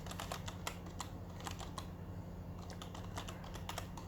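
Fast, steady typing on a computer keyboard while writing a print-line statement in code, with dense, close key clicks running the whole time over a low background hum.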